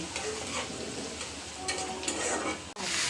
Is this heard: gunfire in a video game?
no